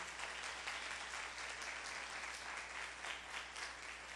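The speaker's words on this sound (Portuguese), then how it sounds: "Dá forte esse aplauso ao Senhor." A church congregation applauds during a sermon, a constant, dense clapping with a faint low hum underneath, heard from some distance.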